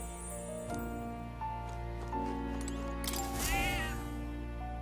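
A cat meows in the Metaphor: ReFantazio video game, a few drawn-out cries over a steady bed of game music, the clearest call near the end.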